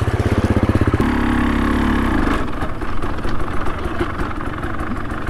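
A motorcycle engine running while riding in top gear along a country lane, a pulsing throaty drone near and loud that shifts in tone partway through, with wind buffeting.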